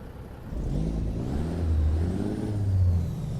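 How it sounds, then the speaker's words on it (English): A Freightliner Cascadia 2018 truck engine in American Truck Simulator rumbles steadily, revving up and down in low, droning waves with a synthetic game-like quality, loud and close, no voices. "here's the engine again."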